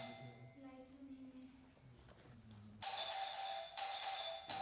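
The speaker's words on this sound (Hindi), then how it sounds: "तभी घंटी बजती है।" A haunted-house doorbell chimes in a tonal electronic ring that starts midway and sounds in two bright bursts over a low, eerie background hum.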